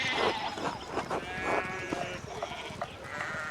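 Several sheep bleat in overlapping calls within the medieval village of the video game Pentiment, loud and close, with a faint voice beneath them.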